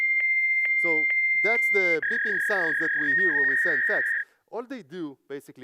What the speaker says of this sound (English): So that's the beeping sounds that we hear when we send fax.